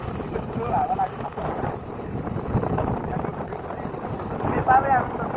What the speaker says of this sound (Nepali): ठुलो हावा लाग्यो